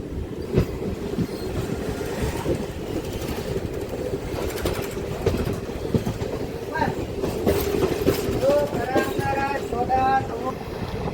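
DEMU local train pulling out of Manoharabad station, a steady rumbling drone with rhythmic rail clatter, carried along with a rising horn-like tone near the end and faint voices.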